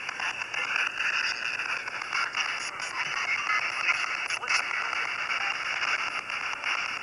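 A ghost-hunting radio scanner sweeps through frequencies, producing a steady hiss of white noise with brief choppy breaks and crackles, close and continuous, no voices.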